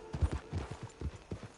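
Horse hooves clip-clop in Red Dead Redemption 2, a close run of dull, uneven thuds with some background rumble and no talking.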